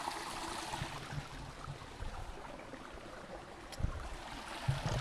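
Water rushes steadily along a stream just below a small waterfall near Chikkaballapur, a continuous broadband roar with no voices.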